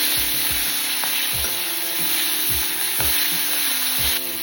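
Chillies and a handful of coriander fry in oil in a kadai, a steady close sizzle punctuated by rhythmic spatula scrapes against the pan, no voices present.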